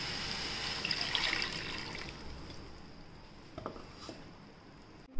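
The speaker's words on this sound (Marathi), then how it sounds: "मिसळून त्याच्यात पाणी टाकूया" Water trickles and splashes into spiced masala in a pan while methi kofta curry is cooked, a faint wet pouring and dribbling sound that tapers off with a few light clinks, ending on a sudden knock.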